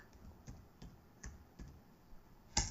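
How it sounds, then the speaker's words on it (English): A command typed on a computer keyboard at a command prompt, about half a dozen soft, separate keystrokes, close and quiet, ending in one sharper, louder key press. "so I'll type ipconfig"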